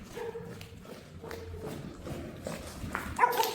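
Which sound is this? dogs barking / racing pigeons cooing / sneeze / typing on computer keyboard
dogs barking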